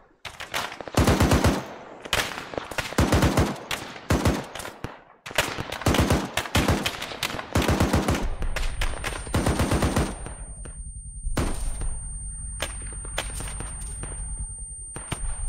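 Heavy M2 machine gun fire in Arma 3 comes in long rapid bursts with short gaps between them, loud and close, and the later bursts run over a low rumble.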